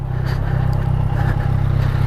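A Kawasaki Versys 1000 motorcycle with a Two Brothers exhaust runs nearby as a fairly quiet, steady low engine rumble with a slight rhythmic pulse.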